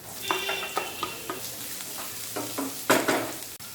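Capsicum, beans and carrot stir-fried for fried rice in a pan, a close, steady sizzle with repeated scraping stirs and a louder burst of frying near the end.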